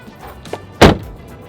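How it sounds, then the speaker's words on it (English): A car's front door shuts with a single solid thump, close and clear, following a couple of faint rustles. "Let's close the front door real quick."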